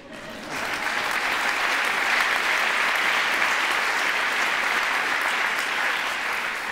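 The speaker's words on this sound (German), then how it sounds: "deshalb will ich hier einen kleinen Applaus für die Avengers of Immunity" Audience applause at a German-language popular science talk about the immune system, a dense, even clapping that swells in quickly and holds steady, loud and unaccompanied by speech.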